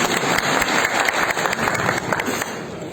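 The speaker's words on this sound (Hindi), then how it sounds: "एक ताली बजाकर" Audience applause at a Bhojpuri film muhurat event in Jaunpur, a steady dense wash of clapping that fills the whole stretch at close range with no pauses.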